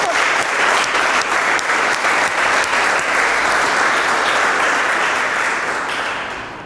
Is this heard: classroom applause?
yes